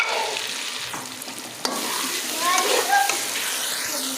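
Ground spices (red chilli, salt, dried coriander, cumin, turmeric) roasting in hot oil for aloo matar pulao, a steady close sizzle with light stirring scrapes and a brief sharp clink near the middle.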